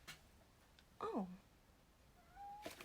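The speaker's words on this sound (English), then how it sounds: "Oh dear, the cat's back." A house cat gives one short, faint meow in a quiet indoor room, a falling cry heard alone with soft incidental noises before and after.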